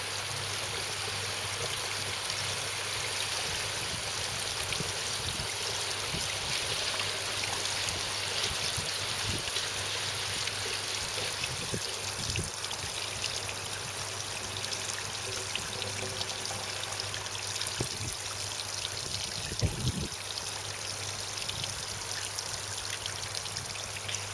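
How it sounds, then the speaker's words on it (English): Water draining out of a cyclone filter to waste during its cleaning cycle, a steady hissing, splashing flow holding constant throughout with a low pump hum and occasional faint knocks. "the valve will reopen and the pumps will stop and it will drain out again to waste"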